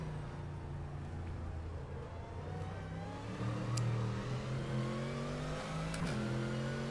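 The steady engine drone of a GT3 race car in the rFactor 2 racing game rises and falls through gear changes, a continuous mid-pitched hum heard close with no voices over it.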